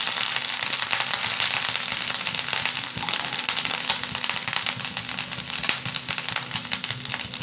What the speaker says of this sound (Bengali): এবার আমি দিয়ে দেব গোটা জিরে, একটু ফোড়ন দিয়ে দেব।